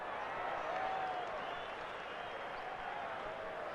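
A rugby stadium crowd at a South Africa versus New Zealand Cavaliers test in Pretoria, 1986, lets out a steady, distant roar of noise and scattered clapping that holds evenly throughout, heard faintly and without any talking.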